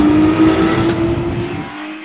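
A Porsche 997 race car battling for fourth place on the Val de Vienne circuit roars loudly up close with a steady engine drone, then its note drops and fades as it passes by.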